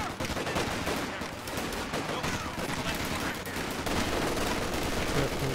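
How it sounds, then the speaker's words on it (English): Machine gun fire in a war video game, dense rattling bursts that keep up without a break, loud and close, with voices shouting faintly underneath. "There's two MGs."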